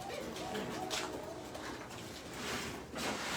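Pigeons in a loft give soft, low cooing calls over a steady noisy background, close by and fairly quiet throughout.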